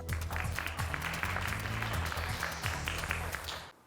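Studio audience clapping at a quiz bowl show, a steady burst of applause lasting a few seconds over low background sound, then cutting off abruptly.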